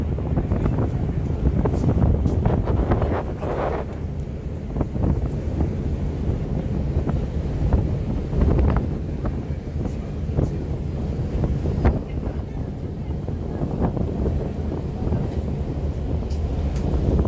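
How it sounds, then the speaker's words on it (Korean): Strong wind buffets the microphone at the waterfront in Split, Croatia, a loud continuous roar with gusty surges and faint water sounds beneath, no speech. "바람이 많이 부네요."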